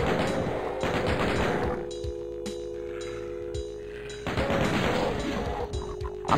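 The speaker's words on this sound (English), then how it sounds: "But then again, I've got a chain gun." A chain gun fires in the Doom video game in rapid, rattling bursts, loud and close, with a sustained firing stretch at the start and another near the end, separated by quieter game sound.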